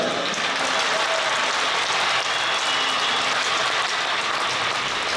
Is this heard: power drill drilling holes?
no